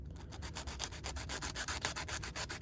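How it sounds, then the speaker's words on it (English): Rhythmic back-and-forth sanding strokes of sandpaper on frame rails, both rails sanded together, steady and close, about two strokes per second with no talking. "when I sand them, I try to go rail to rail, keep both rails together"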